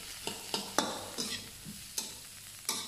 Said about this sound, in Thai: แล้วก็ผัดกับผสมน้ำตาลกันค่ะ